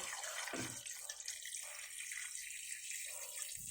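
Water runs steadily from a tap, a continuous splashing hiss with small shifts as the flow hits the basin.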